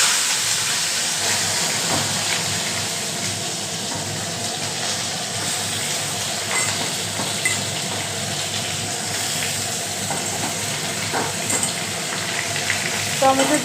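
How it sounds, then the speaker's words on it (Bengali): Bay leaves and spices fry in hot oil, giving a steady, continuous sizzle and hiss that holds at an even level throughout, with faint scattered clatter under it. "দিয়েছি আর একটু তেজপাতা। কিছুক্ষণ দেখো, ভাজা ভাজা হবে, ভাজা ভাজা হচ্ছে"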